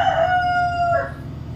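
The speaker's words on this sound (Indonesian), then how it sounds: "ada ayam berkokok" A rooster crows once, a clear drawn-out cock-a-doodle-doo close by, heard alone over a low steady background rumble.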